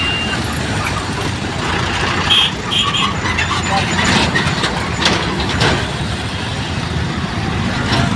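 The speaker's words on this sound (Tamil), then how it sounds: "டிராஃபிக் எவ்வளோ டிராஃபிக்கு நீங்கள் பார்க்கலாம்." Steady road traffic on the Mumbai to Nashik highway roars throughout, a dense rumble of engines and tire noise from passing vehicles, loud and continuous.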